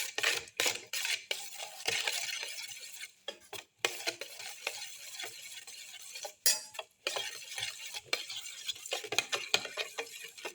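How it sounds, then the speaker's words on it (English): Salt is stirred into a winter melon and egg mixture for a black pepper omelette, producing brisk, close scraping and clinking of a utensil against a bowl in uneven bursts with short pauses, and no voices. "Mix in the salt."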